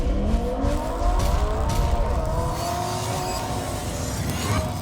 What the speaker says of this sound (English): Rev up your engines!